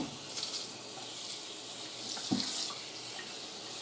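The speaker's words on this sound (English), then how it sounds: "I'm just going to rinse this off." A baking sheet is rinsed under a running kitchen tap, the steady stream splashing with a brief clatter of metal midway, close by and without talk.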